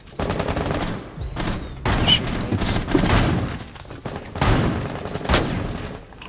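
Repeated bursts of gunfire in Rainbow Six Siege during a house team deathmatch, with loud clustered volleys and window-breaking chaos filling most of the stretch.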